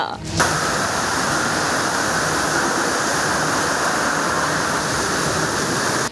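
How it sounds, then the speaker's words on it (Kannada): Steady, loud rushing of floodwater across waterlogged city roads and underpasses after heavy rain, a dense unbroken wash that fills the whole clip with no voices over it. "ರಸ್ತೆಗಳು, ಅಂಡರ್ ಪಾಸ್ಗಳು ಜಲಾವೃತ."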